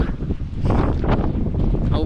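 Strong gusts batter a microphone on a snowy Swiss mountain pass, the Saxerlücke, producing loud, uneven low buffeting that swells after a brief lull and largely masks a voice underneath.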